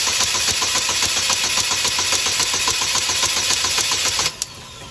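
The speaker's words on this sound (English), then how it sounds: "I'm gonna go ahead and crank the engine over and see what happens." A Chevy HHR with a misfire cranks over continuously under the starter, a loud, rapid, even chugging that runs for about four seconds and then cuts off abruptly into quiet.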